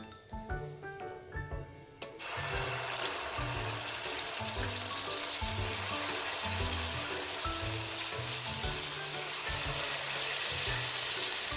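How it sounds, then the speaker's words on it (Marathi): Vada batter balls dropped into hot oil, a steady broadband sizzle that starts suddenly after a quiet opening and holds loud and close, with soft music underneath. "आपलं तेल तापलेलं आहे आता पाण्याचा हात घेऊन यामध्ये गोळे सोडूया"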